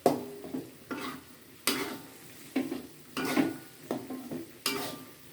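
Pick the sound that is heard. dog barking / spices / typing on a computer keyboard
spices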